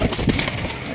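A Raj Golla pigeon gives a short, soft coo at close range, a brief low murmuring call with no voices.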